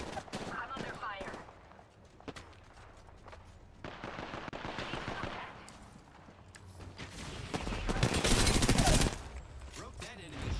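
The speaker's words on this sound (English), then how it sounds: "Enemies are shooting." Rapid bursts of video game gunfire crackle through a shooter match, some dense like automatic fire, with a louder sustained volley near the end, while a player talks over the action.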